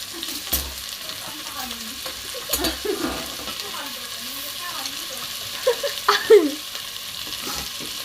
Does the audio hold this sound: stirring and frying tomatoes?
yes